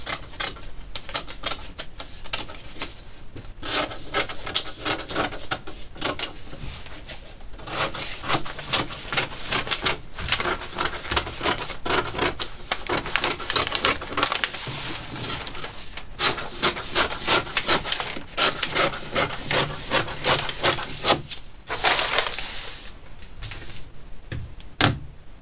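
Paper scissors slicing through a sewing pattern for a shawl collar top, a long run of crisp, rapid snipping and rasping blade strokes up close, steady and busy with only brief pauses and no talking.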